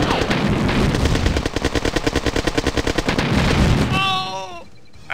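Rapid repeated launches and blasts from V2 rocket launchers in the Command & Conquer Red Alert game form a dense, loud rattling volley, followed by a short synthetic unit voice reply as the barrage fades.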